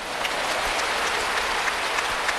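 A church congregation at a Pentecost sermon at Yoido Full Gospel Church claps together, a steady, dense roar of many hands with faint individual claps standing out, continuous throughout.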